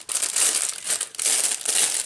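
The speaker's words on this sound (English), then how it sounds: "Excuse the crinkling." Crinkling of craft packaging handled up close, a steady busy crackle of plastic or paper rustling for a couple of seconds with no voices.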